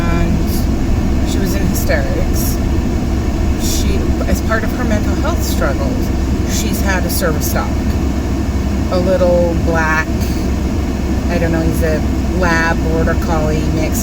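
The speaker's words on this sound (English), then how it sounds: "that noise is my car AC" A car's air conditioning runs inside a parked car, a steady low hum and airy whir that stays constant throughout while someone talks over it close by.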